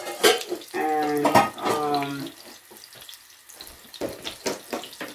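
Kitchen tap runs into a sink while dishes are washed, a steady close water stream that fades lower toward the end, with clattering and a voice mixed in near the start.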